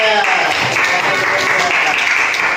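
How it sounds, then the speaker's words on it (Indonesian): An elementary classroom of fifth graders applauds a student group during a coding lesson, with loud, close, continuous clapping from many children mixed with voices talking over it. "tepuk tangan untuk kelompok 3"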